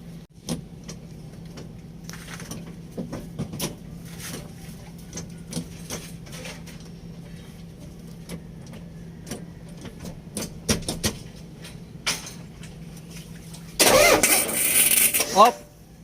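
A car engine cranks and catches during an alternator test, its loud burst arriving near the end after a stretch of low mechanical hum and scattered clicks, with faint voices in the background.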